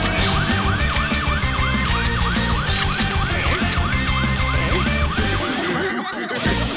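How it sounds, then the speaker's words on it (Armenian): Cartoon fire engine siren wailing in steady repeating rising-and-falling sweeps, loud and close over a busy music and effects bed, cutting off near the end. "Ահա, հրշեջները եկան, հիմա ամեն ինչ կհանգցնեն։"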